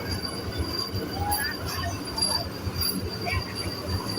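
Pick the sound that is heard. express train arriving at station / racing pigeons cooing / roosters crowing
express train arriving at station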